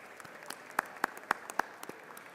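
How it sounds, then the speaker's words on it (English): A few scattered, sparse claps ring out for Baylor University education students in a legislative chamber, four sharp claps standing out among faint others, fairly quiet and brief. "everybody clap for them"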